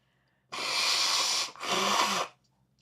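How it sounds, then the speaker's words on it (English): Two strong, hissing blasts of air in quick succession, nearby and loud, like someone forcefully blowing their nose into a tissue. "I'm gonna have to blow my nose"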